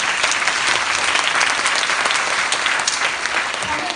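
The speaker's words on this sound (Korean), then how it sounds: "박수 한번 주세요" An audience at a business seminar claps steadily for several seconds, a dense, close and sustained burst of applause with no pauses.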